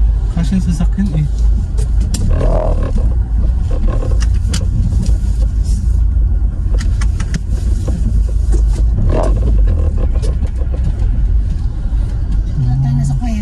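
A car rolls slowly into a cave with a steady, loud low engine rumble and road noise that runs throughout, while people talk over it.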